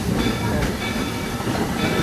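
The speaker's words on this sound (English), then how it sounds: "thanks for traveling with us on the Walt Disney World Railroad" The Walt Disney World Railroad train at Magic Kingdom rolls along with a steady rumble and rail clatter, a continuous close mechanical wash with no clear voices.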